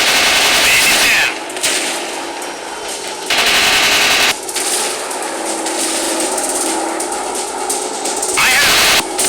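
Machine gun fire in a WW2 warplane dogfight video game, loud continuous rattling bursts that last several seconds, with brief breaks and a steady engine drone underneath.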